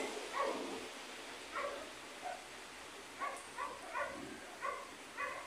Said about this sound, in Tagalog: Dami rin na mga aso dyan.